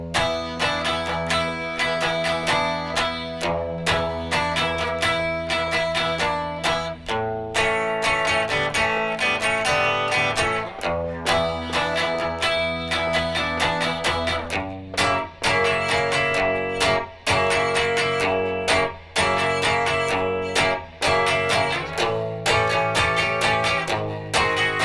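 Electric guitar plays the first verse of a song, a steady, loud run of bright picked notes and chords lasting about twenty-five seconds, with no talking.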